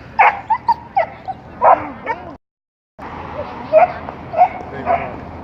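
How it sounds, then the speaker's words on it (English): A dog whimpers and gives short yips and barks close by, in a burst, a brief pause, then more whines, with people talking over it. "The dog trying to get out of Esau's hands."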